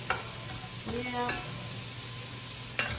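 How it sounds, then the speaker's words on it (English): Vegetables sauté in a pan for sausage lentil soup, a soft steady sizzle close by with a few spoon scrapes and clinks, no talking. "the veggies have a little bit more to kind of saute a little bit"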